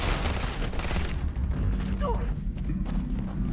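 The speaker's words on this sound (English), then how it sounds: "Who's shooting at me?" Dense gunfire from the video game Starfield fills the scene as a loud, steady barrage of booming shots and bursts, with a voice talking over the combat noise.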